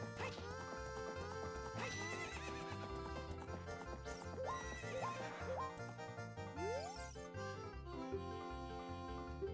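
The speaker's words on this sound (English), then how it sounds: "Giddy up, horsey." A horse in the video game Zelda: Ocarina of Time whinnies and clip-clops steadily, mixed into constant game music throughout.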